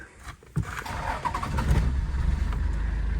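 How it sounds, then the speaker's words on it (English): A Toyota Land Cruiser 105 Series diesel engine cranks briefly, then catches and settles into a loud, rough, steady idle close by. "Let me just start this car for you."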